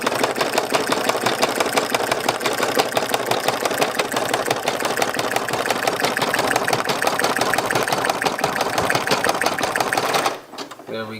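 A Brother PE770 embroidery machine stitches a patch, a steady rapid mechanical chatter of needle strokes running close and loud for about ten seconds before stopping abruptly near the end.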